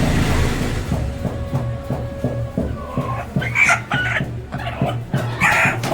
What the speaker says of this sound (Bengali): এই যে মুরগিটা কিনলাম, কত দাম